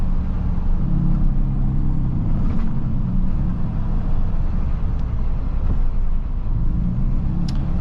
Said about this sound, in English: Okay, I'm gonna drive next to this truck,